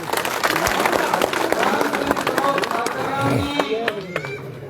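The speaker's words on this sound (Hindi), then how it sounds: "शाबाश तालियां, शाबाश" Crowd at a village public rally and welcome gathering claps and cheers in a busy roar, while someone talks loudly over the noise throughout.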